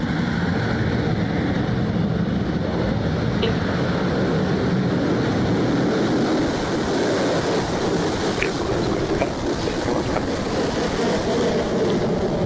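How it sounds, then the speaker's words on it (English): A Rocket Lab Electron rocket lifts off on the Kakushin Rising mission, producing a continuous, heavy broadband roar and rumble that stays loud and unbroken throughout. "And we have liftoff"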